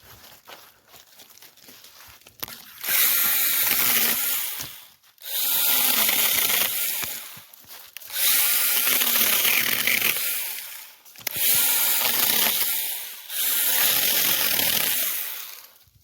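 A Stihl GTA26 battery pruning saw makes repeated cuts, five sustained buzzing, rasping bursts of a few seconds each separated by brief pauses, loud and close with no talk.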